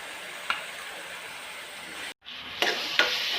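Onions frying in a pan for Assamese jatilau kufta, a steady close sizzle with a few sharp stirring scrapes, briefly cut to silence before the sizzling resumes.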